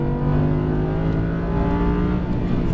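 An Audi R8 V10 accelerates at full throttle on a racetrack, its engine a loud, continuous, close-up roar with steadily climbing pitch.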